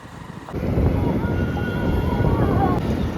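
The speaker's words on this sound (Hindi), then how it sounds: "एक हाथ से बाइक चला रहे हैं हम।" A motorbike ridden along a town road, with a steady low engine rumble and strong wind buffeting the microphone after a brief quieter start.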